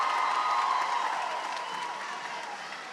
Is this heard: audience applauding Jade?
yes